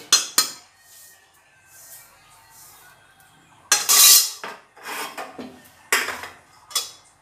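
Roasted semolina being tipped and scraped from a kadai into a bowl: several close, sharp bursts of metallic scraping and clinking separated by quiet gaps.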